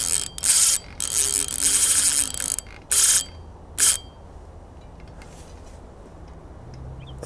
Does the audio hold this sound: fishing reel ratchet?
yes